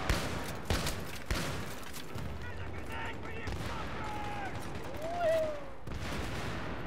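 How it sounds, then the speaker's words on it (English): Battlefield 3 firefight with rapid gunshots and repeated explosions, sharp cracks at the start then distant rumbling blasts and a whistling projectile, fairly faint overall. "Oh my god, there's so many explosions!"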